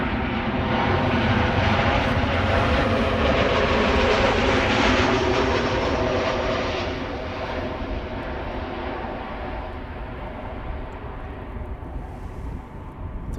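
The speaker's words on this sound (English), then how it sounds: "Transavia arriving from Barcelona" Transavia airliner arriving from Barcelona at Amsterdam Schiphol, a loud broad jet engine roar that stays strong, then eases slightly as it passes.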